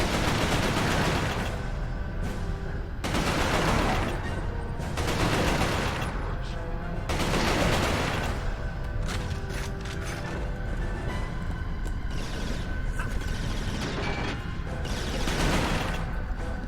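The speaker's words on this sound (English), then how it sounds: "feel like there's some of the bombs going off behind me there" Bombs going off in the video game Resistance: Fall of Man, broad booming blasts repeating every couple of seconds over a constant mechanical rattle and clatter of combat.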